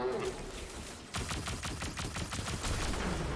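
Auto rifle fire in the Destiny 2 video game rattles in a rapid, steady burst of evenly spaced shots, fairly faint beneath a game mix, starting after a brief quieter stretch.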